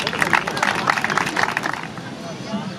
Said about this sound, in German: Einen herzlichen Applaus für die Reporter ohne Grenzen-Vertreterin Juliane Mattei